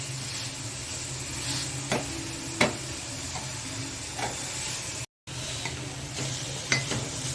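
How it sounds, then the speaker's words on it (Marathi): Sweet modak filling with jaggery is sautéed and stirred in a pan, giving a soft, steady sizzle broken by occasional scraping taps of the spoon against the pan. "हे सारण आपण व्यवस्थित याच्यामध्ये परतवून घेऊया"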